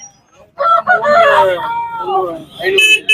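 A rooster crows loudly and close at a market, a drawn-out call that rises and falls, with other fowl noise and some crowd sounds toward the end.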